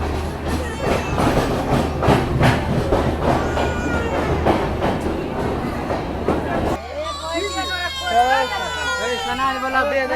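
A passenger train rolls into Khagaria station, with rumbling wheels and clattering cars under someone talking, then the train noise gives way to busy platform chatter and vendor voices.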